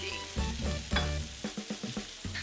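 Food cooking in a kitchen video game, a steady close sizzle with a run of soft rhythmic thumps and stirring knocks toward the end, no talking.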